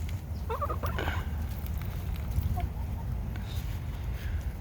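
A chicken in a yard gives a short burst of clucks near the start, then quieter scattered chirps over a steady low outdoor rumble.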